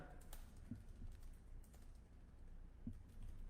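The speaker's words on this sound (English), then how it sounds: "I'm going to go ahead and type this" Fingers type on a computer keyboard, producing quiet, close, uneven clicks and taps over a few seconds. There is no speech.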